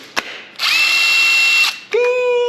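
A cordless drill whirs steadily at a high, even pitch for about a second, stops, then spins up again after a short click.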